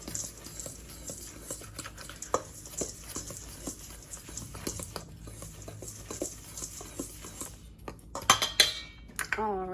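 A spoon mixes cinnamon into a strawberry peach crisp topping in a bowl, giving repeated close clinks and scrapes against the dish, with a busier rattle of utensils near the end.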